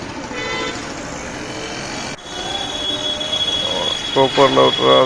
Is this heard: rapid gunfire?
no